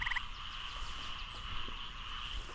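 Frogs croak in tall striped zigzag grass, a steady chorus of rapid trills layered far and near, continuous and soft throughout with no voices.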